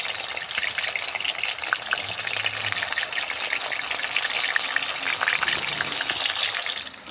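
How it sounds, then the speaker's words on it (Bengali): Dough-coated pieces fry in hot oil in a kadai, giving a loud, steady, dense sizzle that carries on without break, with a faint low sound now and then underneath. "এটাকে ভালো করে ভেজে নিতে হবে।"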